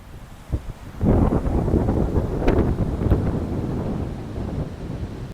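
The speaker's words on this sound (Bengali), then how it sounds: "প্রচুর হাওয়া চলছে, ঠান্ডা হাওয়া, খুব সুন্দর লাগছে এই সমুদ্রের ধারটা।" Strong, cool wind sweeps across Puri's sea beach and buffets the microphone in loud, rumbling gusts that rise after the first second and keep churning.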